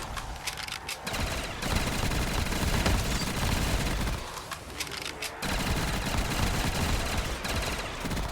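Dense, continuous automatic gunfire in Black Ops 3 Zombies on a custom map, loud and close, with rapid overlapping shots and two brief lulls where the firing thins out.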